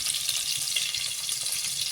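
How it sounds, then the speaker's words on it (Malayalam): Two tablespoons of coconut oil sizzling in a clay pot on the stove, a bright continuous crackling hiss close by with faint stirring, and no voices. "അതിലേക്ക് ഞാൻ ഒരു 2 ടേബിൾ സ്പൂൺ വെളിച്ചെണ്ണ ഒഴിച്ചിട്ടുണ്ട്."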